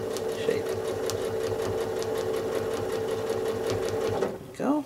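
A sewing machine runs steadily as it travel-stitches along the edge of a star shape on a quilt, its rapid even whir continuing close up for several seconds before stopping as a voice briefly speaks at the end.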